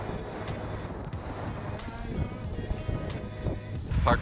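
Strong gusting wind buffets the microphone during a road-bike ride on Fuerteventura, a steady low roar with louder surges, no talk heard.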